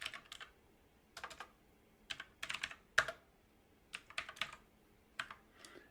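Someone types a short Bash script on a computer keyboard, with quiet, irregular bursts of key clicks separated by brief pauses, close and alone.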